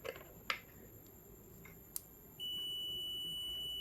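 A multimeter in continuity (buzzer) mode gives a steady, high, unbroken electronic beep that starts abruptly partway through and holds, after a couple of faint clicks from the probes.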